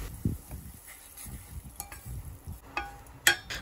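Mustard and green chili paste goes into a hot pan for a salmon curry and is stirred, giving soft scraping strokes and a low sizzle with a few sharp utensil clicks near the end.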